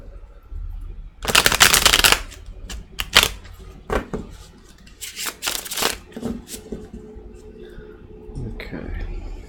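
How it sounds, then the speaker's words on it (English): Cards are riffled and shuffled close up in a long burst, followed by lighter flicks, taps and rustling as the deck is handled. "One more shuffle."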